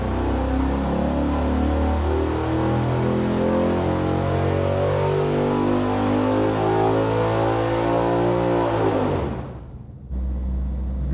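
A Pontiac Ram Air V tunnel-port V8 roars through a dyno pull, its loud engine note climbing steadily in pitch for about nine seconds before abruptly cutting off and dropping to a low idle rumble.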